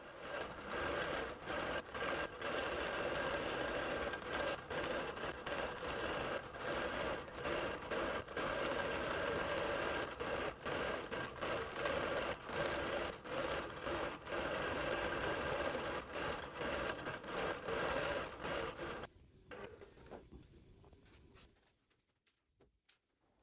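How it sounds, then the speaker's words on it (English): A longarm quilting machine stitches a flower design across a quilt with a fast, steady mechanical chatter and a whining hum. It pulses slightly as the stitching moves, then winds down and stops near the end. "Next, I'm going to sew the same flower design that I used earlier on the left side of the quilt."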